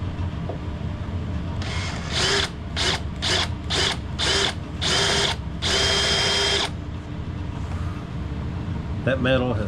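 Power drill boring out old rivets on antique wrought-iron bellows, roughly 170 years old, in a run of about seven short, loud bursts followed by a longer one, with steady background noise and a voice underneath.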